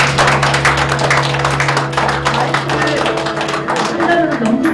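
An audience applauds at a Korean news agency's New Year reception, a close and loud run of clapping under steady music, with a voice speaking over part of it.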